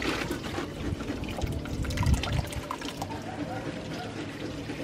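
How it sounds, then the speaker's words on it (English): Juice poured from a bowl into a strainer in a home kitchen, giving a steady, close liquid pour and trickle with a splashy swell near the middle, while a voice talks faintly underneath. "So I'm just gonna pour it in the strainer."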